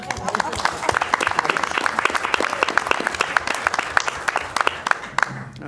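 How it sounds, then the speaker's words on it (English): A round of applause at a school board meeting, many hands clapping in a dense, steady burst that tapers off near the end, with voices audible around it. "I thought that deserved a round of applause"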